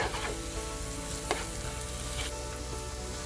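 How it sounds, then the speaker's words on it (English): Biriyani mixture with mint, cilantro and a little water being stirred in an Instant Pot, a dense steady sizzling hiss with a couple of scraping strokes of the spoon, close and without talk. "Give it a good stir."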